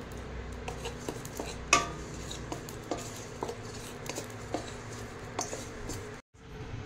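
Radhuni and fennel seeds dry roasting in a pan, stirred with a utensil: faint scraping and light ticks of seeds and spoon against metal, with a few sharper clinks, quiet and steady.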